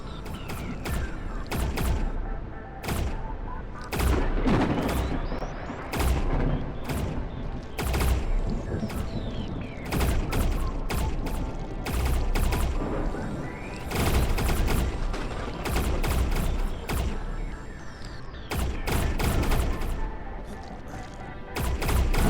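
Turrets fire in the video game Surviving Ceres in dense, loud, rapid volleys of gunfire bursts, with crashing impacts and mechanical clatter packed throughout and almost no pause between salvos.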